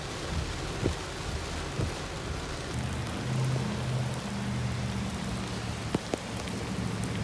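Heavy torrential downpour drums steadily on a surface outside during a night of food delivery driving, with a couple of distant thunder rumbles and a low steady hum underneath; no voices.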